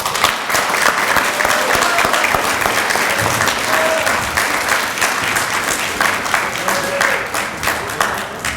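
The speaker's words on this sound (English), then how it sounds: "let's give them a round of applause" Sustained audience applause fills a college honor society induction ceremony, dense steady clapping from a large crowd throughout, with a few faint voices mixed in.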